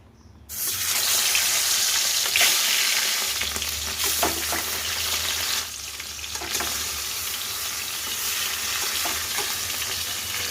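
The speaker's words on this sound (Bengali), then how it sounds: "মাছগুলো এবার ভাজবো এক এক করে।" Koi fish rubbed with salt and turmeric fry one by one in hot oil in a wok, a loud, steady sizzle that runs throughout with a few brief bursts and scrapes, no voices.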